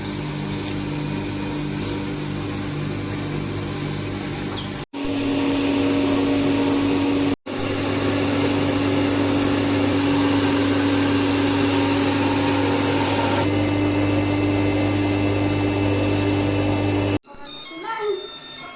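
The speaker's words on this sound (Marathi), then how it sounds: "ही घरघंटी अशी लावलेली" An electric flour mill grinding rice runs with a loud, steady mechanical hum and whine that continues throughout, a few brief cuts, and a short electronic tone at the end.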